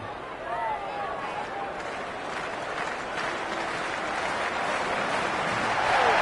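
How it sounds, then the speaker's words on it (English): Stadium crowd in the Cricket 26 video game cheering with a steady, dense roar that swells louder toward the end, with scattered clapping mixed into the broad wash of voices. "It's almost palpable, the excitement emanating from this crowd at the moment."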